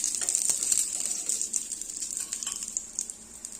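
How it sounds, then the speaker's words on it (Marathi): Moong dal pancake shallow frying in a little oil, browning crisp on both sides: a steady soft sizzle with light crackles and occasional sharper pops, close and continuous with no talking. "दोन्ही बाजूंनी आपण मस्त असं क्रिस्पी भाजून घेणार आहोत साईडला अगदी थोडंसं तेल इथे सोडायचं आहे"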